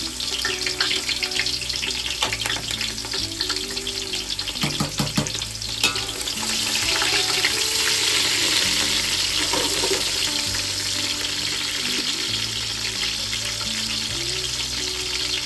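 Chopped onion frying with cumin seeds in a pot for chicken biryani, a steady close sizzle with occasional scraping and stirring clinks throughout, no talking.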